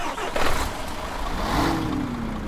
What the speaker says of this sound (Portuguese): Vamos dar partida nele para você escutar o motor.